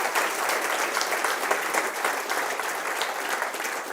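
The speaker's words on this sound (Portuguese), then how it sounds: "E se isso é verdade, aplauda forte o nome do Senhor Jesus." A church congregation applauds loudly, with dense, sustained clapping that holds steady throughout.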